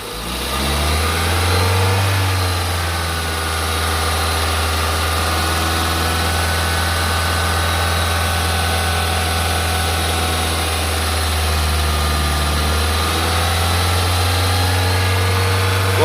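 A 2016 Volkswagen Vento Comfortline petrol car engine runs steadily at idle for the whole stretch, a loud, close, continuous low hum with a faint rise as the accelerator is pressed, and no talking.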